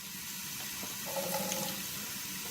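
Water pours out of a jar in a soft, steady splashing trickle that swells briefly in the middle, quiet and close with no voices.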